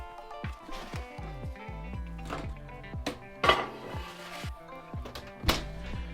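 Pans and dishes clatter and clunk in a home kitchen as risen bread loaves go into the oven, with several sharp metallic knocks and clinks over a steady background hum.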